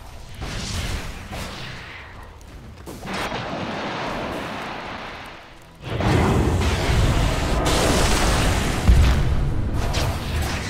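Tower under attack in a Dota 2 match at TI12, heavy booming impacts and rumbling blasts rolling continuously, louder in the second half, with no voices.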